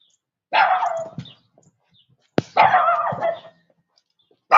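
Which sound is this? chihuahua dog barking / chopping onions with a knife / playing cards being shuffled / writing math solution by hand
chihuahua dog barking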